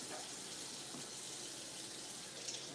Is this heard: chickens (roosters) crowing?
no